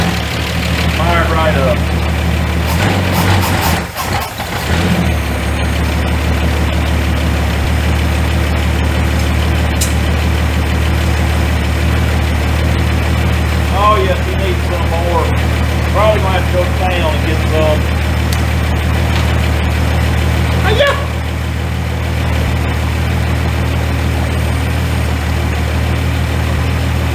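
A Ford Fairmont that has sat for 35 years, running without an accelerator pump, settles into a steady low idle after a brief rough burst near the start, with voices talking intermittently over the engine.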